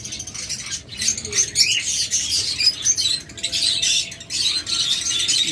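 Diamond doves in a flock calling with soft chirps, their wings fluttering and flapping close by in a steady, busy stream of sound.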